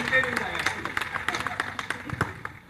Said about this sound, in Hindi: जोरदार तालियों से उनका स्वागत करें।